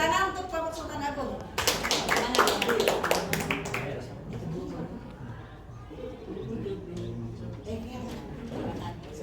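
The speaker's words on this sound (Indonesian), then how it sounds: "Tepuk tangan untuk kelompok Sultan Agung." A short burst of group clapping for the Sultan Agung team at a school coaching session rises for about two seconds, thinning out while voices chatter and talk continues around it.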